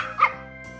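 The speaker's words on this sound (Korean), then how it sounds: "초코가 맥주를 달라고 짖네요." A Pomeranian gives a single short, high yip-like bark, close and clear, over a steady tonal hum.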